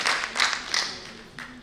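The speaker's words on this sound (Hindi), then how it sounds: "मुझे एक बार तालियों से आप लोग आदेशित कर दीजिए" Audience applause at a Hindi poetry recital in New Delhi, several swelling waves of clapping that thin out, with a last brief burst near the end.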